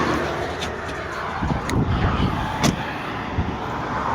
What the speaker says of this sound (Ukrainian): Трішки шумно, траса.